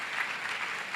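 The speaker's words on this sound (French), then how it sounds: "Acclamation." Applause from a church congregation during a deliverance service, a steady wash of clapping filling the whole second at moderate, even volume with no voices over it.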